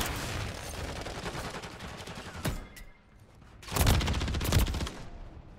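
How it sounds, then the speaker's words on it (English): Sniper fire in Call of Duty Modern Warfare III, sharp cracks landing amid a busy bed of in-game gunfire, with a louder burst of shots near the end. "Spawn gets shot at by a sniper."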